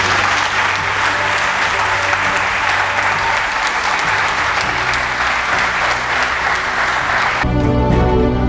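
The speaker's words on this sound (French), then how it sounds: "manifester notre allégresse et notre reconnaissance par des acclamations et des cris" An audience at a New Year's greetings ceremony with directors and advisers bursts into loud, sustained applause and cheering that fills the room, then cuts off abruptly near the end.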